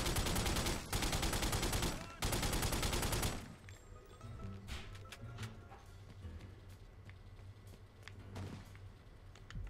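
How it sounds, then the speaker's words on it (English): Sniper fire in a video game set at the Granados Compound bursts out in several loud, heavy blasts over the first three seconds, followed by quieter shuffling, clicks and faint distant shots. "These fucking snipers hit hard."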